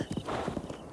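Lazlo the horse gallops along in Zelda: Breath of the Wild, hooves clip-clopping in a quick, even run against steady game background noise.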